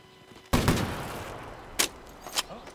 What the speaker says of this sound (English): That is full auto. Definitely goes to the right as you shoot.